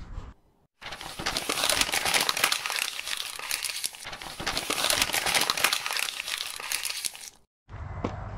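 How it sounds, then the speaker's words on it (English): Masking paper is torn and crumpled away from a freshly painted car, giving loud, close, sustained crinkling and ripping that runs for several seconds, stops briefly midway and resumes, framed by short quiet gaps. "Let's rip the paper off"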